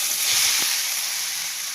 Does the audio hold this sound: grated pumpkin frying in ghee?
yes